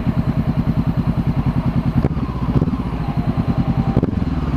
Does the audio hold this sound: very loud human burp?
no